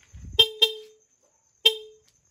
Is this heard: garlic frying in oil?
no